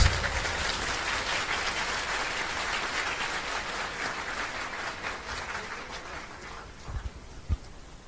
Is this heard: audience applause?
yes